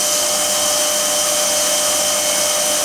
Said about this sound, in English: the belt running for the synchronous rotary guide bushing. 3000 RPM coming up